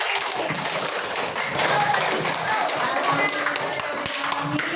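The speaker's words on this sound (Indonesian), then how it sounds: "Tepuk tangan dong untuk kita hari ini" Students in a fourth-grade classroom clap together during a civics lesson, a dense, steady patter of hand claps lasting throughout, mixed with children's voices and chatter.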